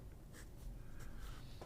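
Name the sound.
Pelikan P363 fountain pen stub nib writing on paper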